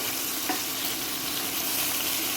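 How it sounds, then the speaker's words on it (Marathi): Crushed garlic and green chili fry in hot oil for a Agri-Koli style tiger prawn curry, giving a steady close sizzle with a faint stir or clink early on, no voices. "लसूण आणि मिरची रफलीच मी अशी चेचून घेतली आहे व्यवस्थित तेलावर अशी परतून घ्यायची आहे"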